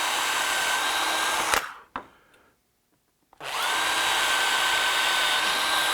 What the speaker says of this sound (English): we'll drill holes. This is a small 1/8" bit.